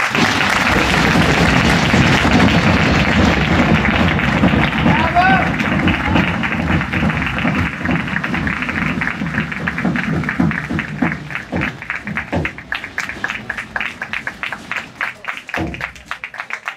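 A large carnival crowd at Castellamonte's historic carnival claps in dense, sustained applause for the first terziere, loud and close, thinning into scattered individual claps toward the end.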